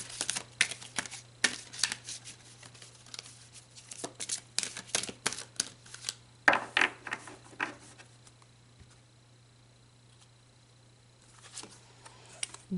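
Tarot cards are shuffled and drawn, giving quick irregular bursts of crisp card flicks and snaps up close, thinning to a few scattered rustles toward the end with no voices.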